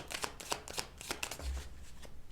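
Quiet, steady riffling and soft slaps of tarot cards being shuffled, a continuous papery flutter with rhythmic light taps, no voices.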